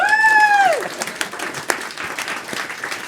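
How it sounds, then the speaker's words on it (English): Applause at a book Q&A event erupts after a short tonal sound, many hands clapping in a moderate crowd with a few sharper claps standing out, fading somewhat toward the end. "a round of applause for Joe"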